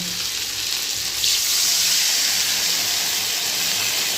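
Water from rinsing a plate added to fish and potatoes frying in a pan, a loud continuous sizzling hiss that swells as the liquid hits the hot oil.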